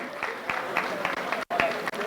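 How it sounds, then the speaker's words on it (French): Audience applause at a Christmas carol (chants de Noël) prize-giving ceremony, a short burst of clapping with voices mixed in and a brief gap near the end. "On applaudit bien fort, mesdames et messieurs."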